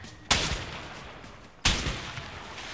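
Gunfire in the video game A Way Out: two sharp, loud shots about 1.3 seconds apart, each followed by a decaying rumbling tail, with no talk.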